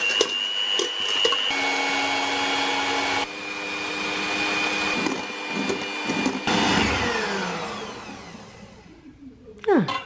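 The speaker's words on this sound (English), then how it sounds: "I've got my electric whisk ready to whisk these up to white" An electric hand whisk whips egg whites to stiff peaks for a keto chocolate mousse, a loud close motor whine that shifts pitch as speed changes, then winds down and stops near the end.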